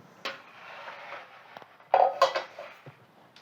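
A spoon stirs gelatin into a sour cream and sugar mixture in a bowl, giving quiet scraping and a few sharp clinks against the bowl. The sounds are soft and close, with no talking.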